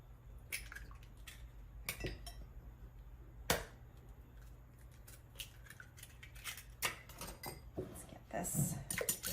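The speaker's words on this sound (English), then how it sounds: "we're going to crack our eggs into our bowl and beat them up a bit" Eggs beaten in a bowl for a pumpkin recipe, quiet irregular clinks and taps of utensil against the bowl, with a person talking.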